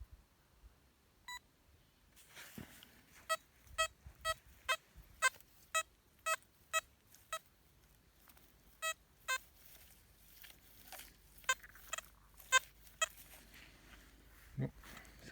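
Metal detector, an XP Deus or Minelab Equinox, giving a string of short, sharp electronic beeps at an uneven rhythm, some sounding and some dropping out, fairly clear over quiet background with no talk.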